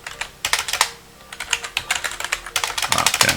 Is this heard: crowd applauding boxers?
no